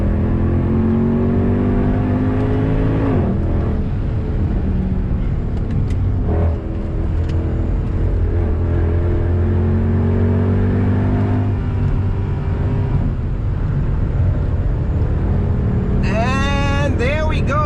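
A Mercedes W204 C63 lapping the Nordschleife, heard from inside the car: a loud, continuous engine roar rising and falling through gear changes, with a sharp upshift early on and hard revving sweeps toward the end.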